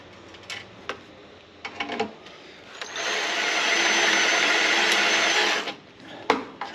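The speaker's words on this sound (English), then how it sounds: "Either this drill bit is dull or that's really hard steel." A power drill whines steadily as it bores into a hard steel front bumper on a 1964 Chevrolet Impala for a few seconds, framed by scattered clicks and handling knocks before and after.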